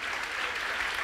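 Brief, steady applause from a church congregation during a sermon, a dense wash of clapping at moderate distance with no distinct individual claps.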